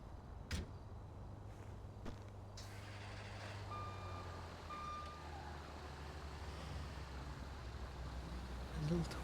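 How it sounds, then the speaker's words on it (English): A tow truck reversing gives a couple of faint, high, evenly spaced beeps, heard from a distance over a steady low traffic rumble with occasional thumps. "Little tow truck."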